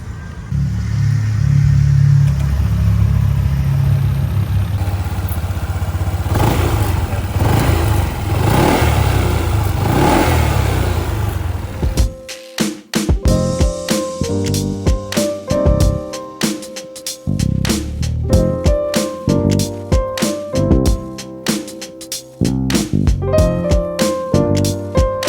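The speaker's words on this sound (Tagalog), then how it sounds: "First sound check ng Honda ADV 160" A Honda ADV160 scooter engine, a fairly loud, close rumble with a few revs over about twelve seconds, after which music takes over for the rest.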